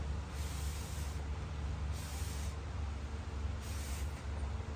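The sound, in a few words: spraying cleaner onto a towel for wheel cleaning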